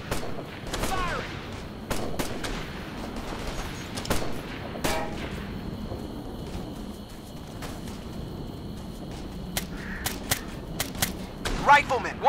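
Gunfire in Operation Flashpoint: Red River, with sharp shots cracking in irregular bursts over a steady battlefield bed, some close and loud, others more distant, while squad voices call out under the firing.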